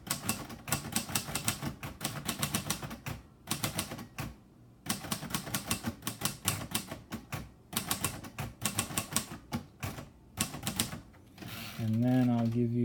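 Keys clack in quick irregular bursts on a 1955 Royal Quiet DeLuxe typewriter, broken by short pauses. A person starts talking at the very end.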